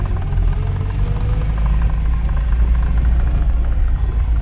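A car engine fitted with a Solex carburetor idles steadily up close, a continuous low rumble with faint rhythmic knocking and vibration, no talk over it.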